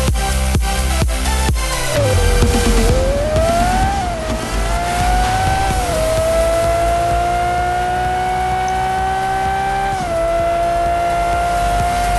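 Lamborghini engine in a racing video game chase, revving hard with rising and falling pitch through gear shifts, loud and close, settling into a sustained high whine with brief tire noise.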